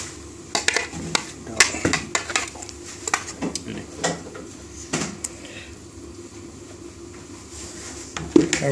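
Mint sauce ingredients tipped into a kitchen bowl, giving a string of sharp clinks and knocks of metal utensils against dishes, irregular and close, fading to quiet before a final clatter.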